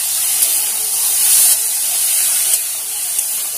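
Potato and green plantain fry in oil under a lid, a steady loud hissing sizzle like steam escaping, with a few soft pops and no talking.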